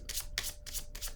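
Four quick, soft swishing slides as tarot cards are handled and laid down, evenly spaced and faint.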